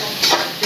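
Onions stirred and sautéed in a pan during home cooking, a steady soft sizzle with scraping stir strokes swelling in brief bursts, close and alone.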